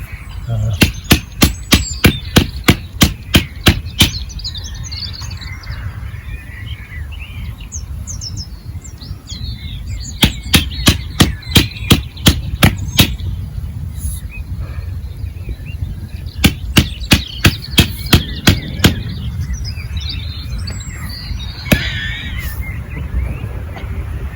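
Rapid bursts of light metallic tapping from a very small hammer, in quick runs of strikes separated by pauses, with birds chirping in the background outdoors on an allotment plot.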